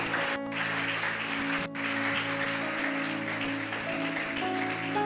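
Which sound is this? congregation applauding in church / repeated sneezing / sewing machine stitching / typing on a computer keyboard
congregation applauding in church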